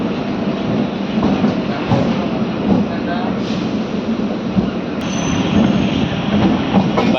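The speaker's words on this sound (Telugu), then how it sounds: "విజయవాడ నుంచి మన ట్రైన్ బయలుదేరింది 35 నిమిషాలు ఆలస్యంగా" A MEMU passenger train pulls out of Vijayawada junction, a steady rolling rumble of wheels on rail with faint squeals and clatter. The noise is close and continuous, with a little background voice.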